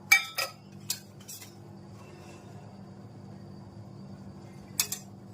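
A spoon clinks against a bowl while a stuffing of coriander-cumin powder, salt and a little oil is mixed for stuffed kantola: a quick cluster of sharp clinks, a long quiet stretch over a low steady hum, then two more clinks.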